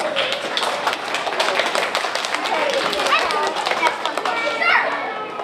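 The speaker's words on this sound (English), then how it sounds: "Everyone give her a round of applause." A crowd claps steadily for a child at a youth museum Apollo 11 celebration, a dense sustained patter of hands with children's voices and chatter mixed in.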